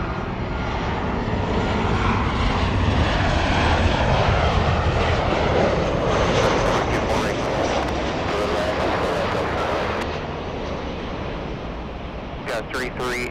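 Airliner taking off from runway 24 Left at Los Angeles International Airport (LAX), a loud, sustained engine roar that holds steady for about ten seconds and then eases slightly, with no talk over it.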